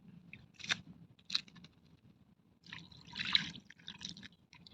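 Soft splashing and sloshing of water as tamarind is rinsed in a small container and the water poured off, in a few brief bursts with quiet gaps, close by.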